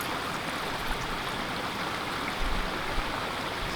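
Water pours steadily into a measuring cup for a Snowpeak Mini Solo cookset, a close, continuous rushing splash with no talk.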